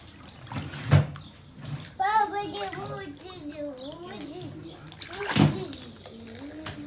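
A young child named Ege splashes water while swimming in a small pool on a home balcony, with two sharp splashes a few seconds apart and a voice chattering between them.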